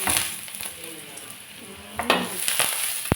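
Steady crackling sizzle of egg frying in a hot oiled pan, with a few sharp pops and clatters of a utensil against the pan.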